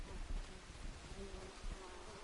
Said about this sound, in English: There's some bees buzzing around.